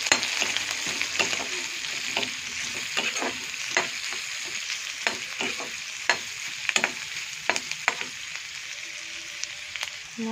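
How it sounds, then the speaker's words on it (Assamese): Ginger, garlic and onion with black pepper powder sizzle steadily in a hot pan. Frequent scraping stirs and crackling pops cut through the continuous frying noise, with no talking. "দি অলপ ৰঙা হোৱাকৈ ভাজিম।"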